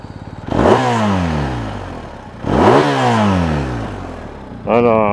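A BMW R1250RS motorcycle engine at standstill is revved twice in strong rising and falling sweeps, loud and close, and a third blip begins at the end over a lumpy idle.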